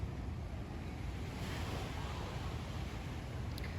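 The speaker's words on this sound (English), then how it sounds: "It's the sound of the water is so beautiful." Steady rush of bay water washing against the shore at Reed's Bay in Hilo, Hawaii, constant and fairly loud, with a windy hiss and no voices.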